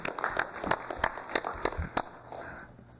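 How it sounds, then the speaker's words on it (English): Applause from attendees in a chamber during a congressional regular session, several seconds of scattered, fairly close clapping that starts lively and thins toward the end, with faint voices underneath. "we already give them a round of applause, right? We can do a second. Let's do it again."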